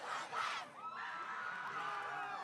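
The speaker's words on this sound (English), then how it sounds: "Breathes some life into this crowd that has otherwise been pretty quiet tonight." High school football crowd cheering after a score, a brief burst of shouts and whoops at moderate distance that settles into a lighter murmur.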